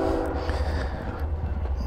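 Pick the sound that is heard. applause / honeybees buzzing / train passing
train passing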